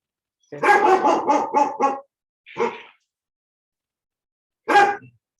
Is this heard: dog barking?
yes